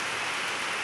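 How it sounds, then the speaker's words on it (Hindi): Rain falling in a village, a dense steady hiss of drops on surfaces, brief and fairly loud with no talk. "बारिश होने लगी फिर से।"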